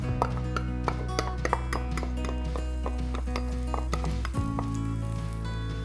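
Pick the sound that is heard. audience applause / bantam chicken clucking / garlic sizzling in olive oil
garlic sizzling in olive oil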